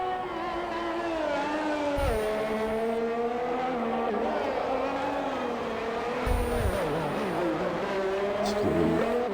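Ferrari race car in a racing video game, its engine droning steadily with shifting pitch through gear changes and brief bursts of tire noise, continuous and fairly loud throughout.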